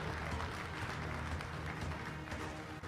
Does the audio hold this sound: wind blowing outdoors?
no